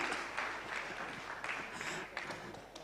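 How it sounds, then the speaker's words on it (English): Audience clapping at a live event, steady, fairly faint applause from a group that continues throughout without a break. "Once more, clap for them."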